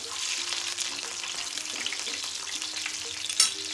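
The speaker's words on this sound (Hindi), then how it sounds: "ये देखिए माशाल्लाह हमारे दूसरे भी अब फ्राई होने वाले हैं।" Gola kebabs fry in a pan with a loud, continuous sizzle and crackle, and a brief clatter of stirring near the end, with no voices.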